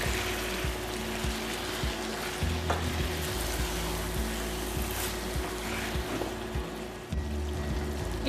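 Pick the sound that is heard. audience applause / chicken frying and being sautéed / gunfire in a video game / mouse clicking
chicken frying and being sautéed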